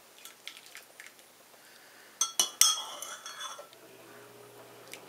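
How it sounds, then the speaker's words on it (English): Spoon stirring a cup of hot matcha green tea, a few light clinks of metal on ceramic, sharpest near the middle, close and fairly quiet, with faint soft handling sounds around them. "so I'm stirring it up"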